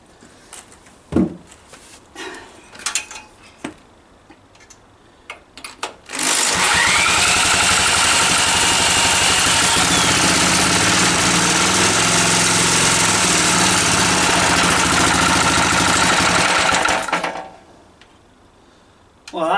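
An old single-cylinder mystery engine fires on a drop of fuel poured into its carburetor and runs loud and steady for about ten seconds, then cuts out abruptly. Faint knocks and handling noises come before and after.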